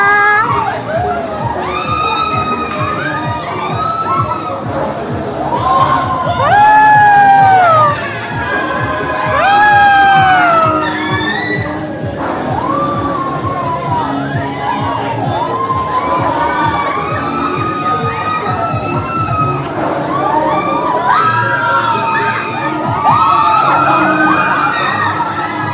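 Riders scream and shout on a roller coaster at the Dufan amusement park, Jakarta. A crowd of voices rises in long overlapping shrieks and cheers that swell and fade in waves for about twenty-five seconds.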